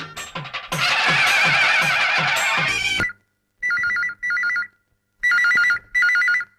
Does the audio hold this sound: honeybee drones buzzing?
no